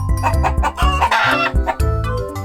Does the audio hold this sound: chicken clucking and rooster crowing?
yes